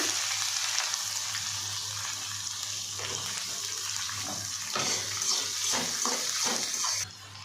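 Mustard seeds, cumin and chopped onion frying in hot oil for a flattened rice dish, giving a continuous close hiss and crackle, with scraping stir strokes toward the end and no voices.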